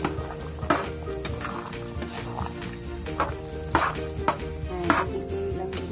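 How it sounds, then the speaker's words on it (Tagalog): Pork menudo frying in a pan and being stirred. A close, continuous sizzle runs throughout, with regular scraping and clinking strokes of the utensil against the pan every second or so and no voices. "Haluin lang natin siya."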